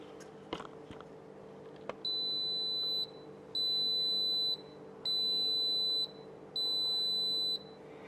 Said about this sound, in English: So you just heard it beep to confirm the number of minutes I set it to steep.